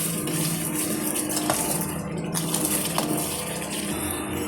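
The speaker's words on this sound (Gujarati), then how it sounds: "એકદમ મિક્સ કરી લઈએ" A utensil scrapes and clinks against a pan while stirring pav bhaji ingredients with salt and turmeric, amid a steady sizzling hiss, with a few sharper metallic taps, close and continuous.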